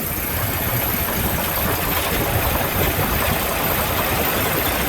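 An old, rough truck with no synchros, double-clutched through third and fourth gear while driving, gives a steady, loud, dense engine drone with constant vibration throughout and no clear break at the shifts.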